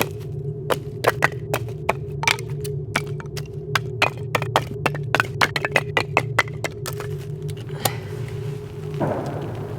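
Sharp wooden cracks and chops strike repeatedly at an irregular pace over a steady low engine-like hum, fairly close and loud.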